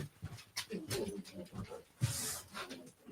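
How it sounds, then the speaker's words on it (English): A dog pants and whimpers at a door, with breathy, uneven huffs and soft whines that rise and fall close by and fairly quietly. "I gotta let my dog through the door."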